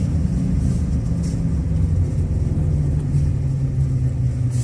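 Trucks rumble along the BR 163 highway in heavy rain, a steady, loud low drone of engines and tires that holds unbroken throughout with no voices.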